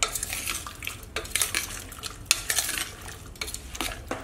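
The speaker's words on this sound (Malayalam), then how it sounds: "ഇത് നന്നായിട്ടൊന്ന് മിക്സ് ചെയ്തെടുക്കാം" A spoon stirs koottu curry, a Kerala sadhya dish, in a metal pot, scraping and clinking close up in an uneven rhythm over a soft sizzle, with no voices.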